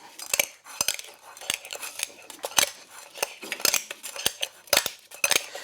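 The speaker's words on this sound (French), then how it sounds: "On va l'écraser avec une petite casserole." Black peppercorns crushed on a tray with a small saucepan, producing a series of sharp metallic clacks and crunching knocks at an irregular pace, close and clear with no talking.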